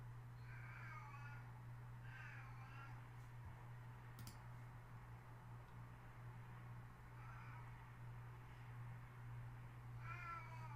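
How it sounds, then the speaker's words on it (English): A pet cat cries in short meowing bursts, repeated several times, faint and in the background over a steady low hum. "ignore my cat. She's just crying in the background."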